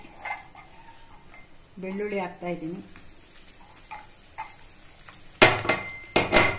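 Coconut, roasted gram and crushed garlic go into a pan with scattered metallic clinks and scraping stirs, a soft sizzle underneath, and a brief murmur of voice in between, ending in sharper clatters of a utensil against the pan.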